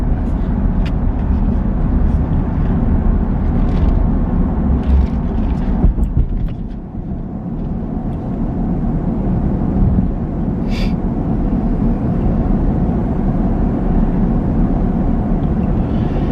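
A car driving on the road in Indiana, giving a steady low engine and road-noise rumble from inside the cabin, constant throughout with a slight dip partway through.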